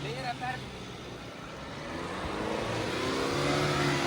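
MG Majestor SUV crawling off-road over rough, potholed ground on its own without throttle, a low steady engine hum and road rumble that swells slightly toward the end, with people talking over it.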